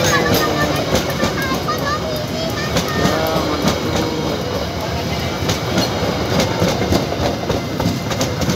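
An Indonesian long-distance economy-class train rumbles past close by with rhythmic clickety-clack of wheels on rails, loud and continuous, while people talk over it.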